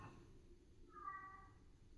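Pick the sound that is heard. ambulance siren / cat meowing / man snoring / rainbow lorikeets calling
cat meowing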